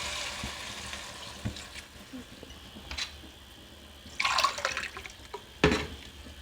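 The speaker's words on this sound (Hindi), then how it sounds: "ये डेढ़ कप मैंने इसमें पानी शामिल कर दिया।" Water is poured into a pot of meat already fried with spices and onions, bringing sizzling and bubbling, splashing bursts and a few clinks against the cookware, fairly close and moderately loud.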